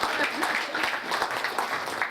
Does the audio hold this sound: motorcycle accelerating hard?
no